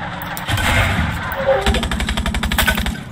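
A rifle in the video game Far Cry 6 fires a rapid automatic burst of loud, closely spaced shots after a brief clatter, the rhythm steady and punchy.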